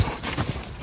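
A horse moves with its hooves clip-clopping, loud and close in a dense, continuous run of steps with no talk.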